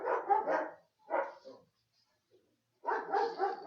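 Dogs bark in several quick bursts, a pair of clusters at first, a pause, then another rapid volley, moderately close with no one talking.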